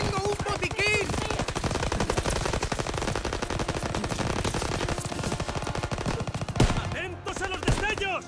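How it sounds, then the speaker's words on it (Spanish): Dense gunfire in Call of Duty: WWII during a battle for the liberation of Paris, with rapid machine-gun bursts running almost the whole time and a few sharper shots near the end, loud and continuous with no talking. "me están disparando y no sé desde dónde"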